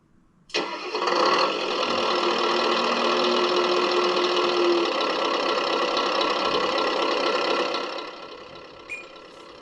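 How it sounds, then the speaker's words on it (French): A simulated engine sound from a Tamiya Scania 770S V8 8x4/4 RC truck starts up abruptly, then rumbles steadily at a loud idle for several seconds before fading down near the end. "nous avons bien évidemment donc les sons du moteur. Donc on va allumer les moteurs."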